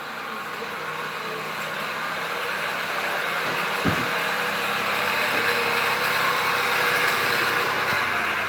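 A 2009 Dodge Caliber engine idles in a shop with a steady, low growling drone and a brief thump near the middle, close and continuous, with no voices.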